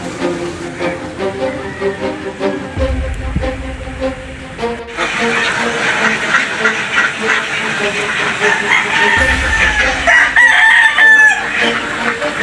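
A large flock of ducks on a wide duck farm calls out in a loud, dense chorus of overlapping cries that grows busier partway through.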